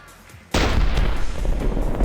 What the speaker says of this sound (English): It is just an incendiary laser.